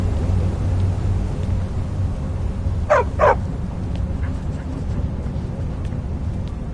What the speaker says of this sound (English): Don't mind the dogs. They get anxious when they haven't had dinner.